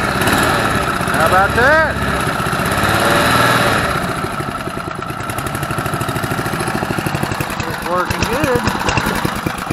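A homemade poor-boy prodrive mud motor engine turns over and settles into a steady, loud, close running drone with a rough mechanical rattle, while someone speaks over it.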